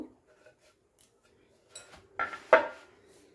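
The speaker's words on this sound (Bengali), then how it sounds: "তো সব সয়াবিনগুলো এইভাবে দুভাগ করে কেটে নিলাম" A knife cuts soaked soya chunks in half on a board, giving a few short, sharp taps and clicks near the end after a mostly quiet stretch.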